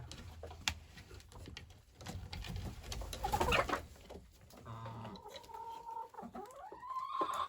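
Chickens cluck and murmur softly nearby, with scattered short calls and rustling in a quiet setting.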